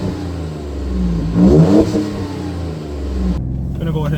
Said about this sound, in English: I'm gonna go ahead and give it another acceleration run here.